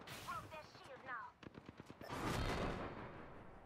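Rapid bursts of gunfire in a first-person shooter video game, quick sharp shots in a short volley followed by a louder sustained burst, with some game voice lines in the background.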